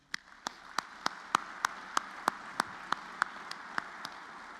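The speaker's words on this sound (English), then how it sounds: "So everybody, round of applause for Steve." Sparse, evenly spaced claps ring out one after another at a steady rhythm at an air safety forum banquet, each a sharp crack, like a small group slowly applauding.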